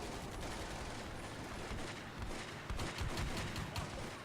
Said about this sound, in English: He's got an autocannon.